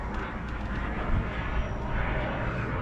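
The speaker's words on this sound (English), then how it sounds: "there's an airplane going over" A low, steady roar from an airplane passing overhead near a marina, heard alone with no talking and holding at an even level throughout.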